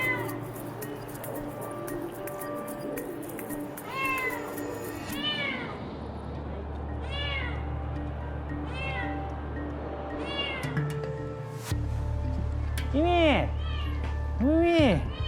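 Cats trapped on a 29th-floor rooftop give repeated rising meows, several spaced cries growing louder toward the end over a low ambient hum, with people talking at moments.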